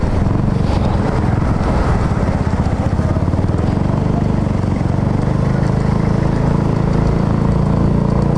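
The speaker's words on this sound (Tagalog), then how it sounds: "Daming motor dito." Many motorcycles pass along a street, their engines blending into a loud, steady drone that runs without a break.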